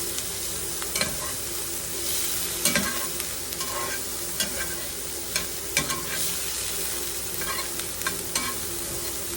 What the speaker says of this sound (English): Get them all good and sauteed like in there